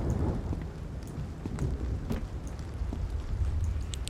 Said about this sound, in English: We are having a torrential downpour out of nowhere